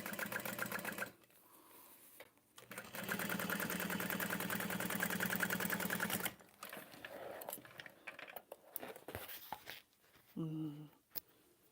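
A sewing machine runs in bursts while top stitching a bag, a fast steady whir lasting a few seconds at a time, separated by pauses with clicks and handling noises and a brief voice near the end.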